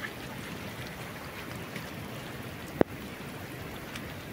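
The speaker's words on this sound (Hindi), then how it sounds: "ये पानी बहुत स्पीड से पानी आ रहा है" Rainwater rushes fast through a flooded outdoor spot in heavy rain, making a continuous broadband hiss and wash, with one sharp knock near the end and no voices.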